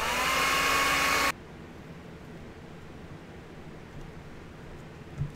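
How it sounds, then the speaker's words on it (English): A hairdryer blows loudly on a freshly painted foam Corbin pistol prop from Studio J7, with a silver stripe, as a steady whooshing hiss that cuts off abruptly after about a second, leaving quiet room tone. "let's hit this with a hairdryer"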